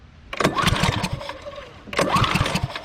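A Club Cadet lawnmower engine is cranked in two rough bursts, sputtering and coughing as it backfires through the intake, close and loud with a short pause between attempts.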